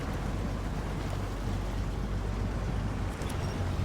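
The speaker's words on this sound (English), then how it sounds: "the sound that truck is making when revving the engine is just awesome" Truck engine in the SnowRunner video game, a steady, loud low rumble with a broad rushing wash that holds evenly throughout, no speech over it.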